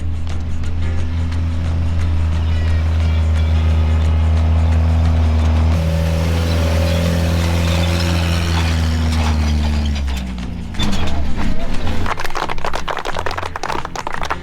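A car engine drones loudly and steadily close by as the car comes up the road. It ends in a rough, clattering mechanical rumble as the vehicle arrives.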